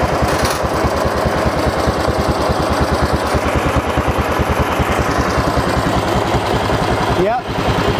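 Racing lawn mower engine with a 28 mm Mikuni carburetor running steadily under load in third gear, a close, loud, rapid buzzing drone with even firing pulses throughout.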